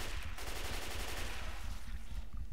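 Rapid automatic gunfire from the video game Left 4 Dead 2 rattles in a fast, steady burst that carries across the whole moment at moderate volume.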